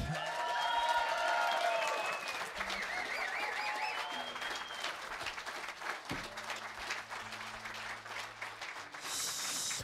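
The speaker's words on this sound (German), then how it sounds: "So viel Applaus bei Bass, das in Hannover ist es möglich" A concert crowd in Hannover applauds the double bassist at a live jazz show, loud and sustained clapping with a few cheers and tonal calls early on that settles into a steady roar before a brief brighter burst at the end.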